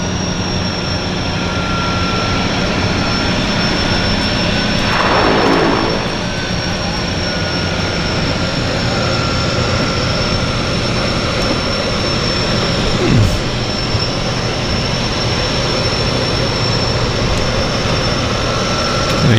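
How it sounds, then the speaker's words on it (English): A propeller-driven Otter floatplane arrives at Vancouver's downtown harbour airport, its steady engine drone loud and continuous throughout, with a brief swell partway through. "And here comes Otter"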